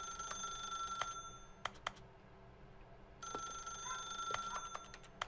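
A telephone rings in The Stanley Parable, a repeated electronic bell in sharp bursts with a short quiet gap partway through, clear against a low room hum.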